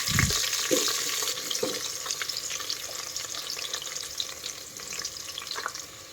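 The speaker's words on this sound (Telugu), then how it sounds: "ఇప్పుడు మనం సన్నగా కట్ చేసి పెట్టుకున్న ఆనియన్స్ ఉన్నాయి కదా, అవి వేసేసుకుందాము" Thinly sliced onions frying in hot oil for vegetable biryani, a dense close sizzle with a thump as they hit the pan, then steady crackling and occasional stirring scrapes.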